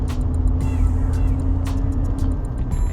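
A 1989 Mercedes-Benz 300CE pulls away with a steady low engine rumble that rises gently, held fairly close and continuous under a light wash of road and wind noise.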